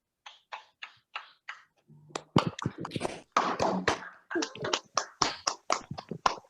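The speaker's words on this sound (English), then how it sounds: "Can we all unmute and give a big round of applause?" Sparse, scattered claps and taps from online meeting participants at a website launch, a few isolated at first and then a denser run of quick hits, with talk mixed in.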